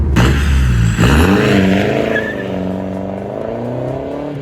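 A Mercedes W169 2.0 CDI turbocharged diesel engine with a straight-pipe exhaust roars steadily under load on a dyno, with rising and falling harmonic tones as it revs, continuous and close throughout.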